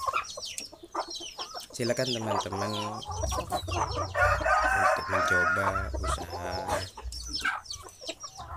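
Free-range village chickens and chicks cluck in a home poultry pen, their calls scattered under and between someone speaking close by.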